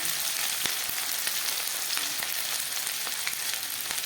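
Chopped garlic and ginger frying in hot oil in a pan for chicken tarka, a steady, close sizzle with light crackles and occasional stirring taps, no talking.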